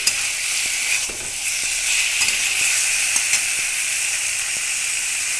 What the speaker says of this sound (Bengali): মশলাটি কিন্তু ভালো মতো কষানো হয়ে গেছে